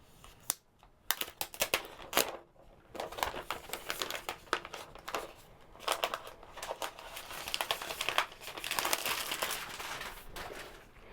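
Plastic wrapper crinkling and tearing as a new black Apple keyboard with Touch ID is unwrapped, bursts of close, sharp crackles and rustles in uneven clusters with brief pauses between.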